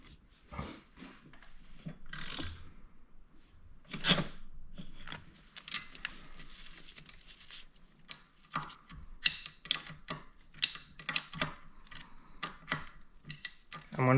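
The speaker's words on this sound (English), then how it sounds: "I'm gonna rotate it till the other bolt comes into view." An Aprilia Tuono motorcycle engine is turned over by hand during front-head valve clearance work, producing irregular mechanical clicks, ratcheting ticks and clunks of gears and tools, close up, with sparse clicks early and busier clattering later.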